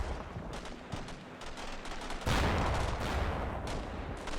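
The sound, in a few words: gunfire in a PVP war video game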